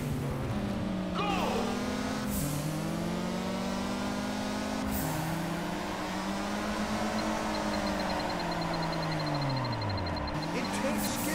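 Race cars in the video game Juiced 2 power slide through a race, engines revving and sweeping up and down in pitch with long sustained drifts, loud and continuous from start to finish.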